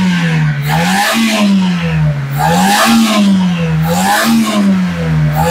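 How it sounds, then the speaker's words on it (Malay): A Toyota Avanza 1.3 manual with a stalling fault revs loudly and close by, in three rising-and-falling engine swells, with no voices. "Dan kita akan rest ini kereta."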